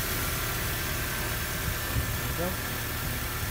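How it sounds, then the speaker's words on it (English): A 1998 Toyota Tacoma pickup truck's engine idles steadily and low after a test start, rumbling evenly throughout, with faint indistinct sounds passing over it. "Engine is running much smoother now"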